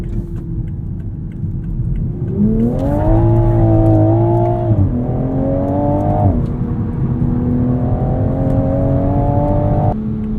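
The 3-liter engine of a 2022 Toyota GR Supra with a ZF 8-speed automatic revs up, climbing through a rising drone, then drops into an upshift and pulls again, loud and close inside the cabin with no talking.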